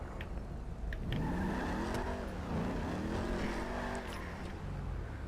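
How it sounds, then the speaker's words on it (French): Car drifting in GTA 5 Online: a steady, loud engine roar with rising and falling revs, slight tyre squeal accents, continuous throughout. "c'est vraiment un véhicule qui drift pas mal"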